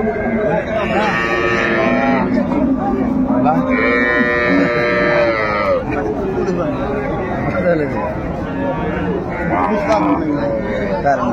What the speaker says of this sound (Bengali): চমৎকার গাভী বাছুর আমরা দেখছিলাম এখানে।